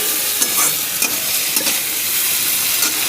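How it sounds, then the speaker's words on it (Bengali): Onions frying in mustard oil with whole garam masala, bay leaf, dried and green chillies, tomato and salt for a rohu fish kalia, a loud close sizzle with scraping stirs, no voices. "পেঁয়াজটা একটু লাল করে ভাজা হবে।"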